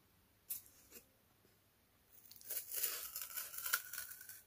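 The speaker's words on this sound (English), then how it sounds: "So now I'm ready to start cutting those out as well." Scissors cutting out paper shapes for a fairy house craft: a couple of soft, isolated snips, then a longer stretch of rustling, crisp cutting and crinkling, quiet and close.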